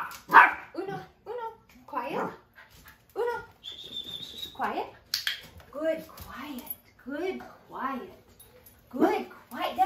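A 9-month-old Maltese, a small dog, gives a string of short, sharp barks and yips in quick bursts indoors while a person talks in between.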